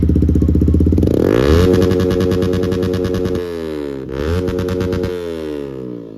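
A Yamaha MT-15 motorcycle revs hard through a loud, raspy aftermarket exhaust, climbing in pitch, easing off, then revving up again, close and continuous.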